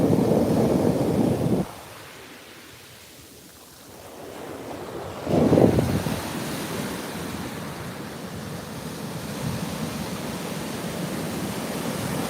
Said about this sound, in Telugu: ఇప్పుడే బీచ్లోకి వచ్చా.